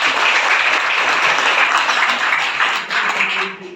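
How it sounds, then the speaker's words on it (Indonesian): Audience applause at an Indonesian organisation's regional assembly, a dense, steady burst of many hands clapping loudly for several seconds before tapering at the end. "Siap, tepuk tangan."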